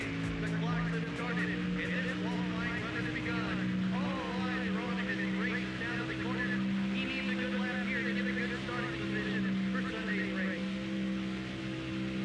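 A NASCAR race car engine in the video game NASCAR Thunder 04 drones steadily at Michigan Speedway, a constant loud whine with shifting pitch and no pauses.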